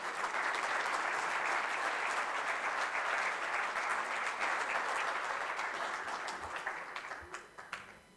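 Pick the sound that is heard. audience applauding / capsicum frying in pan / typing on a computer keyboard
audience applauding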